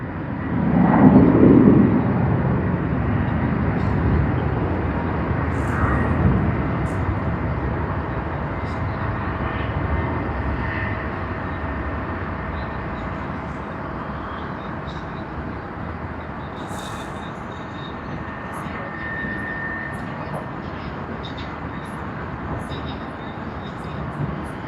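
A jet airliner departing Sydney Airport, its engine roar loudest at the start and then fading into a long, steady distant rumble; a voice can be heard faintly over it.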